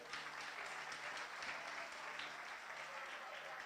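Applause from a comedy show audience for a performer, dense and steady throughout, with a faint hum underneath.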